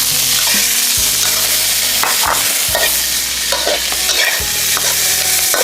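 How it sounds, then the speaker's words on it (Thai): Whole spices are dry-roasted in a pan for a rustic Lao dish, with loud, close scraping and rattling from the stirring, a dense hiss underneath and regular heavier knocks of the utensil against the pan. "คั่วเครื่องตัวนี้ให้มันแห้ง คั่วมีแต่เครื่องเทศทั้งมวลนี่นะ"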